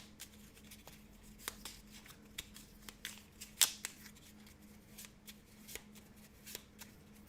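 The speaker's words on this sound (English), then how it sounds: "We have not shuffled this for you guys, so we will do that." A deck of cards for the Arkham Horror board game is shuffled at close range, with rapid riffling bursts and sharp flicks repeating steadily over several seconds and no talking.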